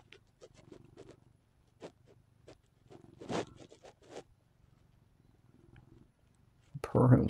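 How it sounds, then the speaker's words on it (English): A cat purrs close by in a soft, continuous low rumble, broken by scattered quiet rustles and brief noises, with a louder burst of handling at the end. "Purring's kind of relaxing."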